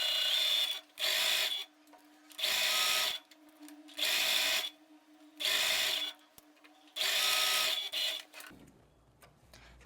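Sewing machine joining a small ruffle to a larger ruffle with a half-centimetre seam, running in six loud, steady whirring bursts of about a second each, separated by short quiet pauses.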